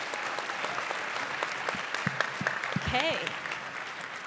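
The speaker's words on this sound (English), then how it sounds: "So with a huge round of applause," An audience at a partnership and collaboration conference applauds to welcome a panel, a soft, steady patter of clapping heard from a distance, while a few voices speak over it.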